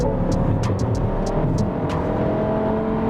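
A MINI Countryman engine in Green mode hums steadily at low revs, a smooth continuous drone with road noise and a few faint ticks above it, no voices over it.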